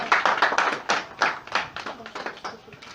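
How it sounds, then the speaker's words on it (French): A small audience claps at a ceremony presenting a party's list of election candidates, producing a loose flurry of individual hand claps with uneven rhythm, fairly close and alone. "on peut applaudir."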